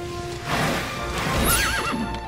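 A horse in the video game Dragon Quest XI whinnies loudly and close over quick clip-clop hoofbeats, one short burst with no talk.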